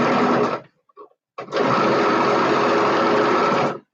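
A sewing machine running in two sustained bursts of steady, loud mechanical whirring while stitching fabric, separated by a short pause with a few faint clicks.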